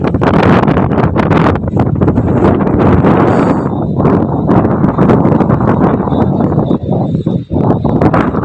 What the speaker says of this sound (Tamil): காற்று நல்லா காற்றடிக்குது.